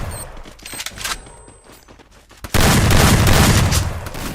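Gunfire in an online shooting game tournament, scattered shots at first, then a loud sustained burst of rapid fire and booms filling the second half.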